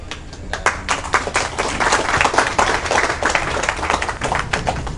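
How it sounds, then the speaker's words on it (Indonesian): An audience at an Indonesian philosophy book discussion claps for the performer, the hand claps loud, crisp and close, forming a lively uneven patter throughout. "sekali lagi tepuk tangan untuk dalang kita"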